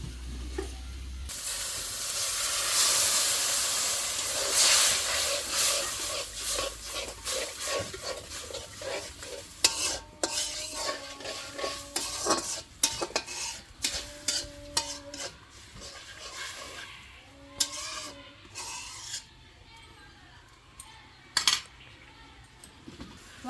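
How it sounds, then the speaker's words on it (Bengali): Sour yogurt stirred into spice masala sizzling in a pan for a prawn malai curry: a loud hiss at first that settles into steady sizzling, with rhythmic scraping and clinking of a spoon against the pot, close by. "মশলা কষানো হয়ে গেছে, এখন আমি টক দই দিয়ে দিব।"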